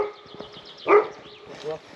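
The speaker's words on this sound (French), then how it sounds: "un gros chien pas tenu en laisse au bord de la route qui nous aboie pour nous interdire de passer" A large unleashed dog barks by a roadside, a few sharp barks close by over quiet speech and background birdsong.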